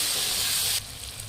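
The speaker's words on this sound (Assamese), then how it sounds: "এতিয়া মই বিলাহীখিনিও খুব ধুনীয়াকৈ ভাজিব লাগিব" Tomatoes fry in a hot pan with a steady, close, broadband sizzling hiss that suddenly drops to a softer sizzle partway through.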